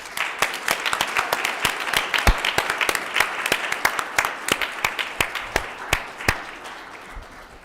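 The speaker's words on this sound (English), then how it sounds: "Let's give her another round of applause" Applause from the audience at a village council reorganization meeting, a broad clatter of clapping with sharp individual claps standing out near the listener, continuing steadily before easing off.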